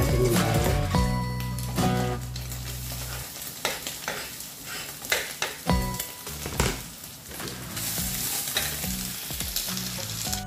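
Egg and garlic sizzle and crackle in hot oil in a pan while frying for Filipino garlic fried rice, a steady frying hiss broken by sharp bursts of stirring and scraping.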